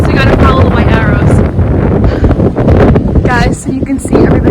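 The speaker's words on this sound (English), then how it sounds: "And it's so windy." Strong gusting wind buffets the microphone on a rocky mountain trail climb, loud and continuous, while a person talks through it.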